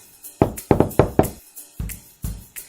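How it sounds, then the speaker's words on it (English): Knuckles rap on a wooden door in a storybook read-aloud: a loud close burst of three or four knocks, a short pause, then a few slower separated knocks, with no voices. "Little Red Riding Hood reached Grandma's house and knocked on the door."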